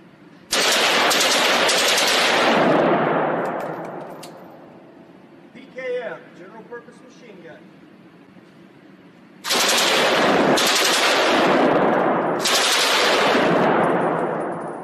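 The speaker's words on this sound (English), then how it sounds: "PKM, general purpose machine gun." A PKM general purpose machine gun fires long, loud bursts up close, one sustained burst, a pause with a person speaking briefly, then three more bursts in quick succession.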